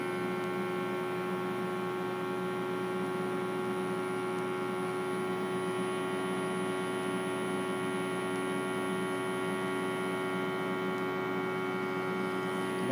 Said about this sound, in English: it is going to vacuum seal